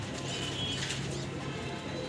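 Two pairs of pigeons shift about inside a cardboard carton, giving soft wing flaps and low coos that sound close against a steady, muffled background.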